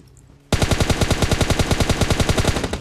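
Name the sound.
gunfire in PUBG Mobile video game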